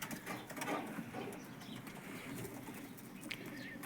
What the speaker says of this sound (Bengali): এখানেও আছে ফেন্সি কবুতর